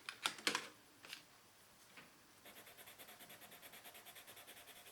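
A Caran d'Ache watercolor pencil colors on paper, making a few sharp, scratchy strokes up close, then a quieter, steady series of rhythmic back-and-forth rubbing strokes.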